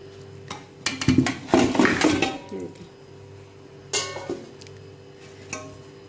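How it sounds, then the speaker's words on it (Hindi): Heavy beef trotters drop into a metal pressure cooker with a burst of clunks and clatters, followed by a few scattered knocks and scrapes. "प्रेशर कुकर में मैं डाल रही हूँ सारे पाए।"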